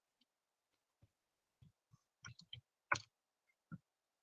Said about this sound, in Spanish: ese fue un teclado mágico